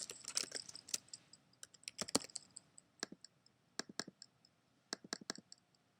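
Computer mouse clicks and keyboard typing while a bar graph is edited in a screencast: crisp, close clicks in irregular bursts and quick runs of keystrokes, separated by short quiet gaps.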